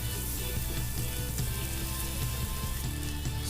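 Tomato masala fries in oil in a pan for karela with jaggery, giving a steady, dense sizzle throughout, close and fairly loud, with no talk.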